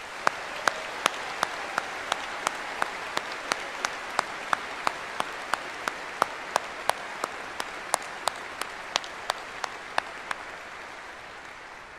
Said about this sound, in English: I believe these students deserve a huge round of applause